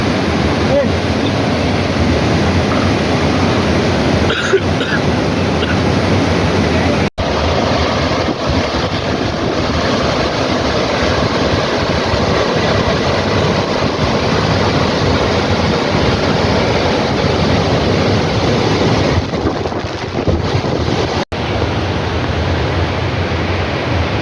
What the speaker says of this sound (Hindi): आबशार का जो हिस्सा है ये पानी गिर रहा है नीचे नाले